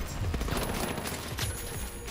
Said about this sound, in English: Yeah, they're shooting me in the back.